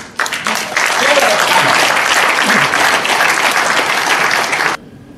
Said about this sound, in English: Let's applause for him, please.